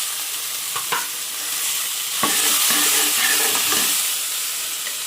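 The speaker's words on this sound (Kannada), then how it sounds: "ಕಡಲೆ ಕೂಡ ಹಾಕ್ತಾಯಿದ್ದೀನಿ." Chickpeas tumble into a hot pan of horse gram sambar masala and are stirred, giving a steady close sizzle and frying hiss broken by several scraping stir strokes, with no voices.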